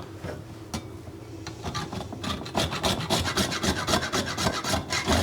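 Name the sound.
rasp style grater grating fresh nutmeg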